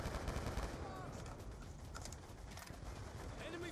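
Gunfire from floating guns in a Wii U video game, a constant rattling barrage of shots at moderate level with no clear pauses.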